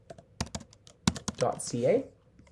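Quick bursts of keystrokes on a computer keyboard while entering a website address, close and fairly quiet, with a voice talking over the later part.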